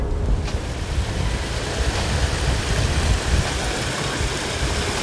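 Strong wind buffets a clifftop high above the sea at Tintagel in Cornwall, a loud, steady, broadband roar with gusty swells and no speech.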